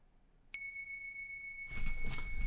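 A single mindfulness meditation bell is struck once and rings out with a clear, sustained tone that lingers, joined toward the end by rising rustling and handling noise.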